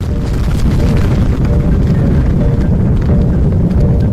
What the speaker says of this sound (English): The explosion was 100 times more powerful than Hiroshima.